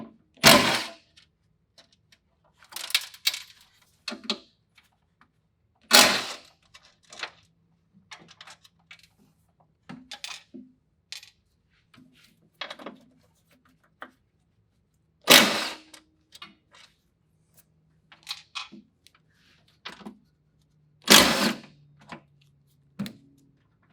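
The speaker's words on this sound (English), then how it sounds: "we can remove the 4 bolts that are on the 4 corners of the charger" A worker removes the four corner bolts from a Storm SS charger. Sparse metallic clicks, taps and sharper clunks come at irregular intervals, close by against near silence.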